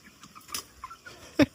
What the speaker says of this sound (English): What about me? 2 chickens, 2 hands, Dave.